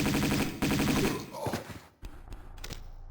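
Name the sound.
Uzi gunfire in video game Tomb Raider II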